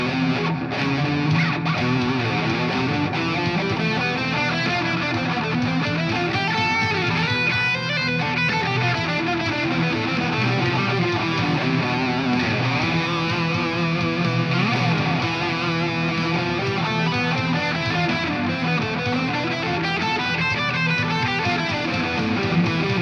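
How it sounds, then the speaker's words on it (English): Electric guitar improvising Phrygian and Locrian lines over a droning E-based backing song, lightly distorted and steady for over twenty seconds with no talking. "I'm going to go ahead and play over it with the Phrygian scale and the Locrian scale"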